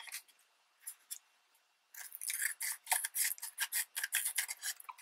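Scissors snip through paper up close, a few quiet cuts followed by a rapid run of crisp, rhythmic snips, with no talking.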